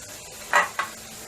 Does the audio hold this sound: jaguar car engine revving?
no